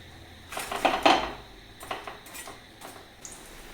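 Fried tapioca bondas are lifted out of a pan of hot oil with a metal slotted spoon, giving a few close clinks and scrapes of utensil against the pan over a faint background, no voices.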